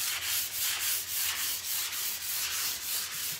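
Sandpaper rubbed by hand over a piece of wooden furniture, a steady back-and-forth scratching in even strokes of about two per second, close and fairly quiet, with no talking.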